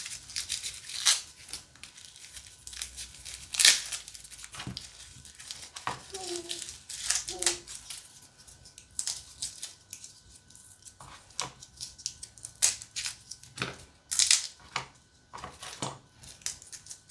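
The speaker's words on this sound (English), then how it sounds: "So I'm going to start peeling the garlic" Garlic being peeled and cloves broken apart by hand in a kitchen, heard as irregular dry papery crackles, snaps and rustling bursts, close and moderately loud, with quiet pauses between handfuls.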